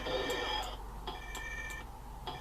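A motion detector in the Space Gun game on an A500 Mini gives repeated high electronic beeps in a steady pulsing pattern, fairly faint and with no talk.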